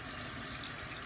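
Tap water runs into a sink while makeup brushes are rinsed, a brief, faint, even splashing hiss with no voices.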